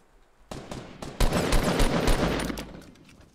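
Rapid automatic gunfire from a Fortnite match, a dense sustained burst of shots with deep low thumps, loud and close, starting abruptly after a brief quiet moment and tapering slightly at the end.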